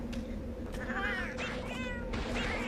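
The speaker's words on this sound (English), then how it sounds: "Oh, and there's some cats here." Cats meowing in the Monster Hunter XX video game, several drawn-out mews rising over a steady ambient game background, moderately near and clear.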